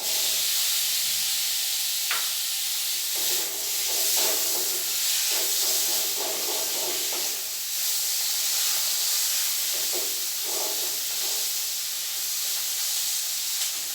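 Tomato tipped into a pan of browned onions for a Malayalam-style neymeen (seer fish) curry, giving a steady loud hiss and sizzle with scattered crackles and soft stirring scrapes, no voices.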